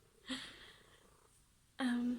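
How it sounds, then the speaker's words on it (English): A cat purrs loudly and close by in a quiet room, with two stronger rumbling swells standing out against a soft, steady purr. "Her purr is really loud."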